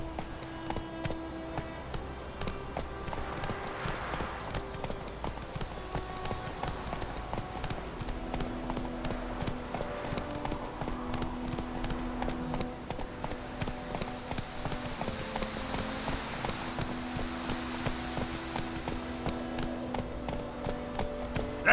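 Horse galloping in The Witcher 3 video game, a continuous rhythmic clip-clop of hooves throughout, with game music and faint voices underneath.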